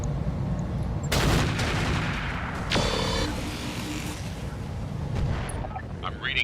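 Weapons fire at a Gauss system in the RogueTech mech video game, with several sharp booming shots and crackling impacts over a rumbling battle backdrop, and a voice talking among them.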